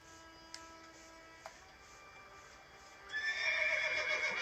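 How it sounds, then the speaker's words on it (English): Roach, the horse in The Witcher 3 video game, gives a clear whinny and then breaks into trotting hoofbeats that grow louder toward the end. A couple of faint clicks come first, and no one speaks. "Luckily, Geralt can always count on his horse Roach to help him in his travels."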